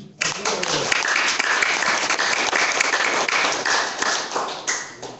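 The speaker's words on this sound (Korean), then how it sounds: "박수 한번 쳐주세요." A crowd at a business presentation breaks into loud, dense applause that holds steady for about five seconds, many hands clapping together with no talk over it.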